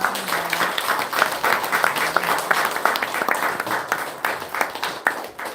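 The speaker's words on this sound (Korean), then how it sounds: "Round of applause." Audience applause at an international symposium, a moderate crowd clapping steadily for several seconds with sharp, irregular hand claps that thin out toward the end.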